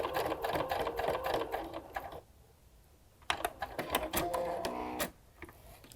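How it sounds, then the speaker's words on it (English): A sewing machine stitches a quilted log cabin potholder close up, running in rapid mechanical bursts with a brief pause in the middle. "So we're going to go under the foot and stitch."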